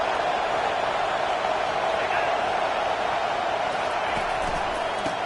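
A packed college football stadium crowd roars for Alabama against Kennesaw with a loud, sustained, unbroken wall of cheering and noise that holds steady from start to finish.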